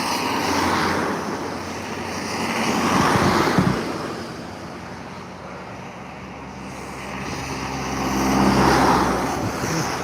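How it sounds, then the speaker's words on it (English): Road traffic near Strathaven by the River Avon in pouring rain, vehicles swelling past on wet tarmac in two broad rushing waves over a constant hiss of rain, no voices. "Yep, all the traffic came down there"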